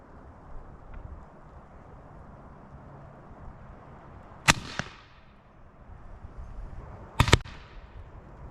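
A Benjamin Airbow, a pneumatic air-powered arrow gun, fires twice at a few seconds' interval. Each shot is a sharp, loud crack with a brief echoing tail over quiet outdoor ambience, and no voices.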